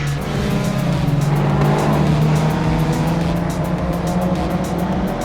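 A Honda Civic Type R FL5 roars around a race track, its engine loud and steady at high revs from inside the car, with a continuous drone and tire noise and no pauses.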